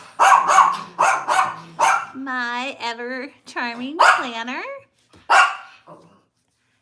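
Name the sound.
dog barking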